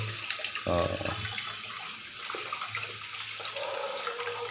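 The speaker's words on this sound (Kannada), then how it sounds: "ಯಾಕೆಂದರೆ ಮಣ್ಣೆಲ್ಲ ಇರುತ್ತೆ, ಹಂಗಾಗಿ ವಾಶ್ ಮಾಡ್ಕೊತಾ ಇದ್ದೀವಿ" Cassava roots are washed under running water in a village kitchen, giving a steady trickle and splash with occasional louder gushes and handling sounds. The sound is moderately close and plays alone.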